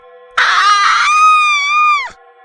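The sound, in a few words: witch screaming, story sound effect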